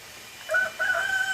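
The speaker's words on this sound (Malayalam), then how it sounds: "എപ്പോൾ വീഡിയോ എടുക്കാൻ തുടങ്ങിയാലും കോഴിയുടെ റുക്കിയുടെ അലയെ കേൾക്കാം." A rooster crows once in a short, fairly clear call from a little distance, alone against quiet outdoor background.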